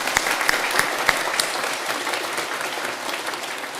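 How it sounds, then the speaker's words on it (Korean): A church congregation claps together during a Sunday worship service, a dense, steady wash of applause with a few sharp individual claps standing out at the start, carrying on evenly to the end. "다시 한번 큰 박수로 하나님께 영광을 올려드립니다."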